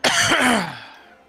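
A character in the video game Ultros gives a single dry cough that trails off into a breathy rasp, close and fairly loud, standing alone without other speech.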